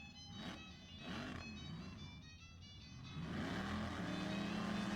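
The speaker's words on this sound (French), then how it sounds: "J'entends une moto, une voiture." Car engine in the video game Star Fetchers: Pilot, a steady motor drone that swells louder toward the end, with a motorcycle also present, heard alone without talk.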